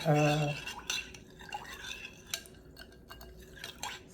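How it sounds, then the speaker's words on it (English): A spoon stirs yeast, sugar and warm water together in a bowl, giving a few close, bright clinks at the start and then quieter, scattered scraping taps against the bowl. "just mix it together"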